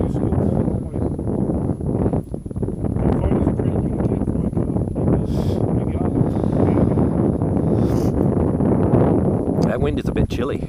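Gusty outdoor wind buffets the microphone with a steady broadband roar that persists throughout, while people talk nearby underneath it.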